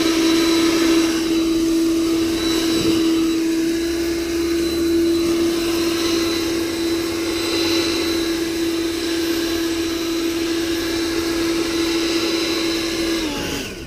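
An EGO or Ryobi battery leaf blower runs on turbo with a loud, close, steady high whine and rushing air that holds level before cutting off at the end.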